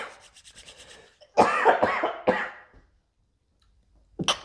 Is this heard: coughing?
yes